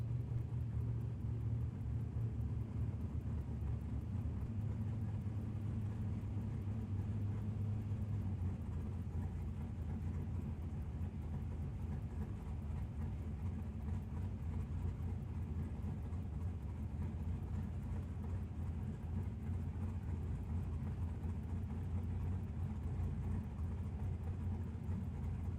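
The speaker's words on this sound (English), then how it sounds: "the Chevrolet Camaro, going to run down the right lane." Jared Ledford's Chevrolet Camaro at a drag racing shootout, a steady loud low engine rumble running down the right lane, with a deeper drone easing after about eight seconds and continuing throughout.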